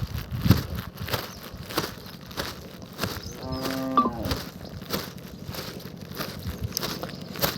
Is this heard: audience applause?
no